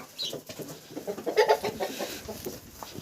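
Australorp chickens cluck softly and repeatedly nearby, a few low murmuring notes rising briefly louder in the middle.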